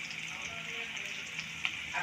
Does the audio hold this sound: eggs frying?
yes